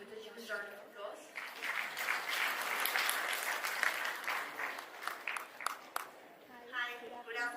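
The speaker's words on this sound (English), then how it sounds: "Can you please welcome Lindsay with a huge round of applause?" An audience at a graduation ceremony claps steadily in a full, sustained round of applause, with voices heard at the start and end around the clapping.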